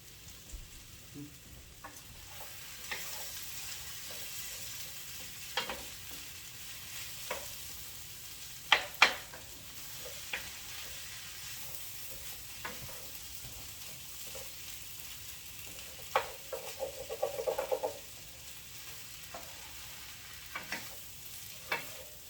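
Onions cook soft in a pot, giving a low, steady sizzle close by, broken now and then by spoon scrapes and clacks from stirring, with a busier flurry of stirring about two-thirds through.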